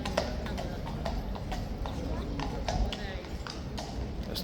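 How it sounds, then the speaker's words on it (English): Hooves of a King's Guard horse clip-clop steadily on pavement, a continuous close clatter over a busy street crowd and traffic din, with voices talking throughout. "Another horse quit."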